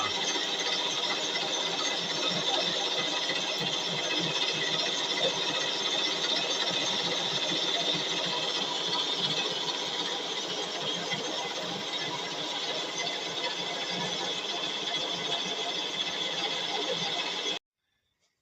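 Steady machining noise from a 7A420 machine boring a 94 mm hole in a bronze bushing, a continuous bright hiss with a faint rattle underneath, running alone at an even level until it stops abruptly near the end.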